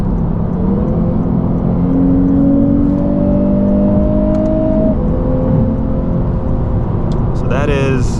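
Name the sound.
2022 Lexus RC350 F Sport engine revving to high RPM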